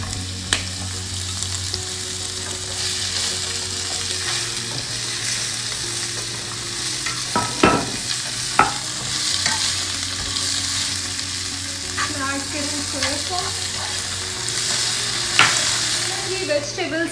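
Vegetables for a chicken sizzler stir-fry in a pan with a loud, continuous sizzle, punctuated by occasional sharp spatula knocks and scrapes against the metal.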